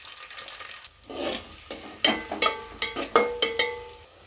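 Chopped onion and green chilli tipped into three tablespoons of hot oil in a pot, giving a soft sizzle and a series of close metallic scraping stirs with a ladle, about eight strokes in an uneven rhythm.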